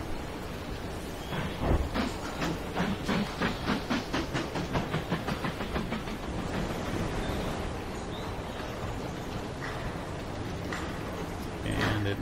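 Train arriving at a station in the Mashinky transport strategy game, a steady rhythmic chugging with hiss that slows and fades into a continuous rumble as it pulls in.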